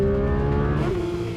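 A 2022 Porsche 911 GT3 RS is driven hard around Silverstone Circuit, its close, loud engine a strong harmonic howl whose pitch shifts midway as the revs change, with no voices over it.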